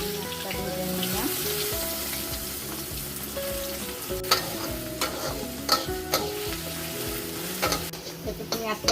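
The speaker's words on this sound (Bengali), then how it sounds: "পেঁয়াজটা ভেজে নিলাম।" Onions fry in hot oil in a kadai, a continuous bright sizzle with scraping stirs and a few sharp clacks of a spatula against the pan, close and fairly loud with no talking.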